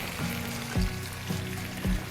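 Scampi sauce sizzling in a pan on a cooking show: a steady crackling fry close by, with a few soft knocks against the pan at an even pace.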